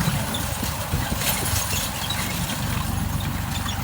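A DTZ 5354HPX 35 hp tractor engine idles steadily at close range, a continuous low chugging drone with no talk over it.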